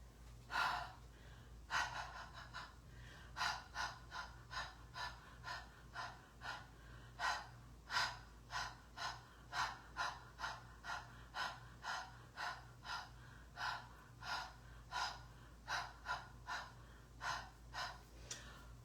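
A long run of short, breathy huffs onto a rubber stamp, roughly one per second, close and fairly loud, each a quick puff of air with brief pauses between.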